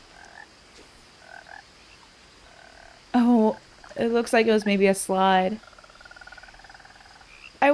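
Frogs croak in What Remains of Edith Finch, a low steady chorus of repeated croaks running under a voice that talks over parts of it.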